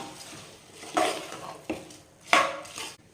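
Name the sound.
mixing soaked basmati rice with masala in a pan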